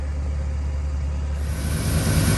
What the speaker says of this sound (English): Well, we finally got the old truck running